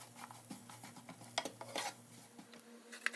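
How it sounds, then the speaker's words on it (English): A utensil stirs marinade ingredients for lamb chops in a bowl, making soft scraping, clinking and wet swirling sounds, close and quiet, with irregular taps and no talk. "Stir these all around so they're nice and combined"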